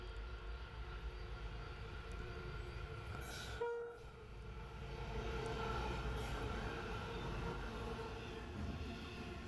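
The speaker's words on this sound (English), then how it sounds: "Now, this is another coal train, but a different one than the one we saw earlier." A long coal train passes at steady distance, a continuous rumbling roar of wagons on rails that dips briefly then swells again, with a faint horn-like tone in the mix.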